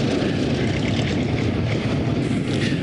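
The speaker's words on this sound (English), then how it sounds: "it's just got a plane coming in" A propeller airplane passes overhead while landing near a car skid pan, a steady broadband engine drone that stays loud and continuous throughout with no talk.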